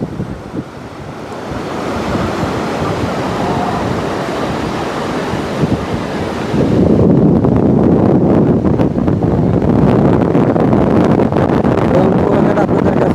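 Sea waves breaking on Kuakata beach with gusting wind buffeting the microphone, a loud continuous surf roar that grows heavier and rougher partway through.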